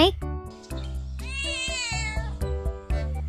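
A cat meows in the video game Sakura School Simulator, giving several short cries and a drawn-out, wavering yowl over a bouncy background tune.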